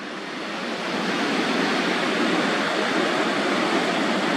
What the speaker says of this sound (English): The sea foam is indicative of big waves.